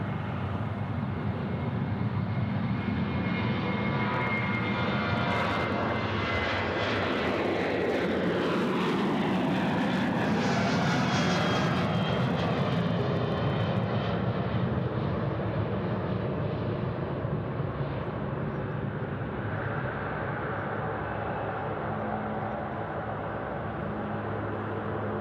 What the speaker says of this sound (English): We've got a Velocity 737 now. This one is 917. It's off to Brisbane, departing 34 right.